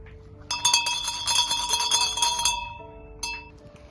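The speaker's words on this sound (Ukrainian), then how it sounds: "Цим дзвоном всім я сповіщу" A metallic bell rings out loudly with a bright, sustained tone, struck repeatedly for a couple of seconds, then a final fainter strike as it fades.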